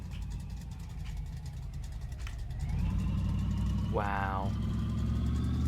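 A car engine idles in the My Garage video game on a car with suspected gearbox trouble, a steady low hum that rises and thickens midway as revs build, close and continuous, with a man's brief exclamation over it.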